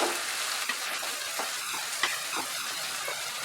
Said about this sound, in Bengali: পেঁয়াজটা ফ্রাই হতে কিছুক্ষণ সময় লাগবে, মাঝারি আঁচে এটাকে ফ্রাই করব।